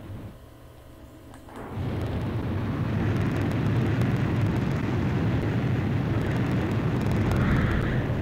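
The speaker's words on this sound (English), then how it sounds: "You are cleared for takeoff." A fighter jet takes off in Ace Combat. The engine comes in with a sudden loud roar partway through and holds as a broad, steady rumble to the end, with no talk over it.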